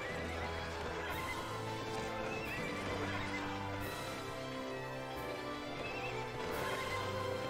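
Cavalry horses neigh and whinny in the video game Cossacks II: Battle for Europe over a constant background of hooves and battle noise, several calls overlapping at a steady loud level.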